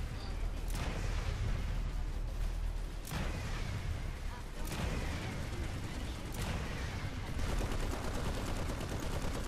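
Gunfire from the online shooter video game Planetside 2 runs as dense, continuous automatic bursts with several sharper cracks standing out, and a player's voice talks over the battle.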